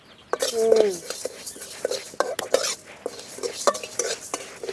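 Urad dal is dry-roasted and stirred in a pan for sambar powder, with clattering scrapes and rattling knocks of a ladle against metal in an uneven rhythm, close by, while someone speaks over it.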